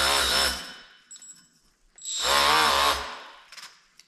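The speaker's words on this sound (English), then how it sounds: "Of course, maybe I should put it in a drill." A drill spins a cleaning attachment in two loud bursts with a pause between them, each winding up to a high whine with a rattling, slightly vibrating edge, close by and with no talk.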